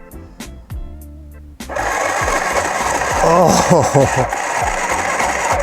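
A SINGER Tiny Tailor sewing machine runs on high: a few clicks and a short hum, then a sudden, sustained, close-up buzzing whir with rapid mechanical chatter, and a voice briefly exclaims at the start.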